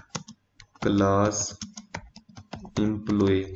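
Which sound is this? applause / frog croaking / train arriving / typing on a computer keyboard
typing on a computer keyboard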